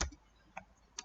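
A few sharp key clicks are typed on a computer keyboard while a network command is entered, three faint separate taps in a quiet room.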